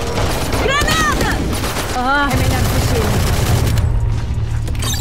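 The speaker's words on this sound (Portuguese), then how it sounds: "Granada!" Grenade blast and bursts of gunfire in the Valorant shooter, loud and dense throughout, with a voice briefly rising over the din of combat.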